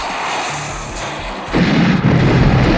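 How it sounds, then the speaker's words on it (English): A movie explosion from the pre-credit opening of the James Bond film Octopussy: low rumbling gives way to a loud booming blast with crackling debris in the second half. "you've got a very spectacular explosion in the opening pre-credit sequence"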